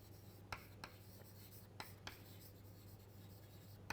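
Chalk or marker taps and scratches on a board during a physics lecture: a handful of sharp, sparse strokes scattered over a faint steady hum, quiet and close, with no speech.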